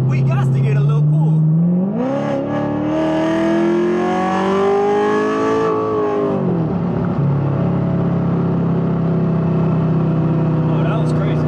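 A C7 Corvette with a 500+ hp cam accelerates onto a highway on-ramp, its loud engine note rising steadily in pitch through the revs, then easing back to a rough, lumpy idle-like drone.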